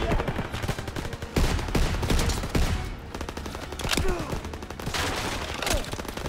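Dense, continuous gunfire from the Call of Duty WW2 campaign, rapid overlapping shots and bursts through the whole stretch with faint voices mixed in the battle noise.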